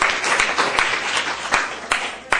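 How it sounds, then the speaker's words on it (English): Brief applause from an audience at an ASA chapter evening meeting in San Francisco, a short burst of scattered claps with some sharp individual hand claps standing out. "Please give yourselves a big round of applause for being here tonight."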